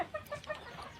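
Free-range native village chickens cluck in a rapid series of short, close, nasal notes in an evenly spaced rhythm, no voices present.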